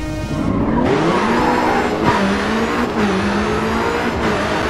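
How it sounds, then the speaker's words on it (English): Race cars in GRID 2 skid and crash with sustained tire squeal and roaring engines, a loud continuous screech wavering in pitch over several seconds with scraping impacts. "Big ass wreck coming up."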